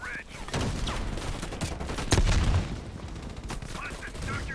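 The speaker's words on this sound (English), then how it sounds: "Heavy MG on the ridge" A heavy machine gun fires from a ridge in a video game battle, sounding as loud sustained bursts and booming impacts amid explosions, with a big blast midway and a voice speaking over the din.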